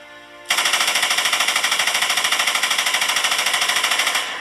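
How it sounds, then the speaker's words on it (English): Sustained machine-gun fire from the film Road to Perdition bursts in suddenly. It rattles as a loud, rapid, evenly spaced stream of shots for several seconds before cutting off. "and then the gunfire."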